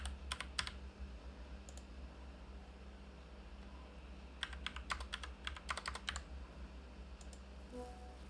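Username and password typed on a computer keyboard: quiet bursts of quick key clicks in short clusters separated by pauses, close and faint over a low steady hum, no speech.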